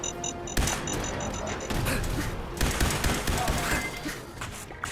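Rapid bursts of automatic gunfire fill a Fallout 4 firefight, with dense clusters of sharp shots and a few electronic beeps early on, a voice briefly audible beneath the shooting.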